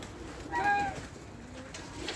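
Pigeons give a short, soft cooing call at close range, a single brief phrase standing out over quiet outdoor background noise.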